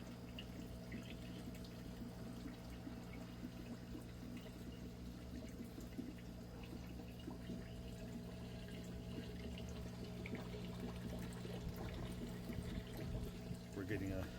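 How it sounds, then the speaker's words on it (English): Water moves steadily through an aquaponics tank outdoors at night, a continuous soft pouring and trickling wash with a low hum underneath, faint and unbroken throughout. "sound of moving water"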